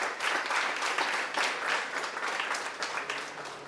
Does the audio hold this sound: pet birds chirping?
no